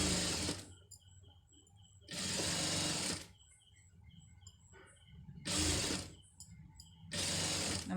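Sewing machine stitching a scallop border onto a neck piece, running in several fast, steady whirring bursts about a second long, separated by quiet pauses with faint handling clicks.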